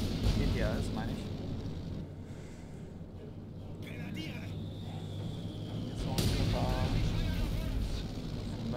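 Battle in the Company of Heroes 2 strategy game, with tank and infantry gunfire and explosions rumbling and cracking at a low-to-moderate level throughout, several sharper bursts standing out, under a voice talking.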